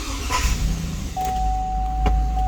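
A 2003 Cadillac Escalade AWD engine cranks and catches, then settles into a steady idle with a constant electronic chime tone running over it.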